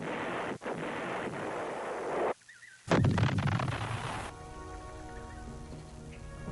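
Artillery guns fire in a war setting, with a heavy booming blast and rumbling roar followed by a sharp cutoff, then a second loud burst that trails into a fainter rumble.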